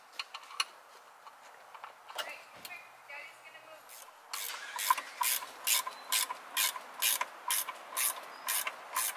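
Rapid ratcheting clicks from end wrenches working bolts loose on an RV suspension bushing, starting sparse and becoming a steady close-up series of sharp ticks.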